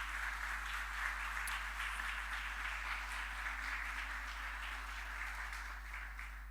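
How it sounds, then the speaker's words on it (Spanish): A church congregation applauds in welcome, a steady, fairly faint wash of clapping from a crowd that holds evenly and tapers slightly toward the end. "Le damos un aplauso otra vez de bienvenida a ellos."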